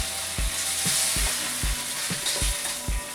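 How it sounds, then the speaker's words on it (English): Chicken fries in a pan over low heat for Surinamese fried rice (nasi), a steady close sizzle broken by regular soft knocks of stirring about every half second. "And then you leave fry for about a minute or 2."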